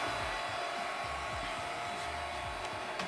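A steady whirring fan hiss runs throughout, with soft low motor chirps and sweeps as a Magma 250 3D printer runs its auto-leveling routine.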